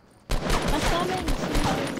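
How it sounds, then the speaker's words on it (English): Shotgun fire in Fortnite, a rapid run of close blasts that starts abruptly and keeps going in quick succession, with voices partly audible underneath. "Those shotguns, huh?"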